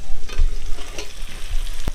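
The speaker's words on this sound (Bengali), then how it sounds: "এবার দিয়ে দেবো পটলগুলো ভেজে রাখা" Fried pointed gourd pieces are tipped into a pan of turmeric and chilli frying in oil for a Bengali potol curry. A steady, loud sizzle with stirring scrapes runs throughout, and there is no talk.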